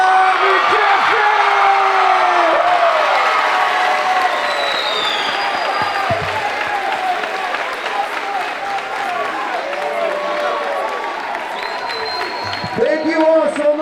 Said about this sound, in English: So let's make a big round of applause for Josiel!